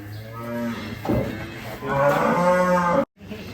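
Two loud, drawn-out moos from a Madura cow close by, the second longer and deeper, with faint background noise between them.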